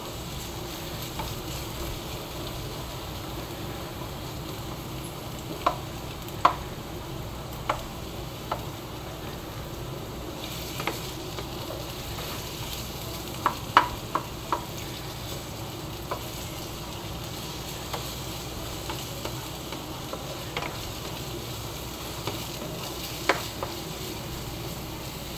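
Garlic and onion sautéed in a frying pan for crab with coconut, a steady close sizzle with scattered sharp taps and scrapes of stirring throughout, and no talk.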